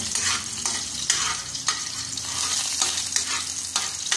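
Garlic sizzles and crackles steadily in a hot pan while being stirred, a close, dense hiss with repeated scraping stirs breaking through every half second or so.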